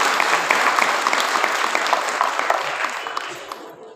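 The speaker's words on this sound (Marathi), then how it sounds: "त्या अक्कासाठी आपण एकदा जोरदार टाळ्या वाजवू." An audience at a Marathi religious discourse gathering claps enthusiastically, a dense burst of applause with distinct individual claps that gradually thins and fades out after about four seconds.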